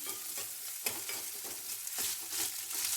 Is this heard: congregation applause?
no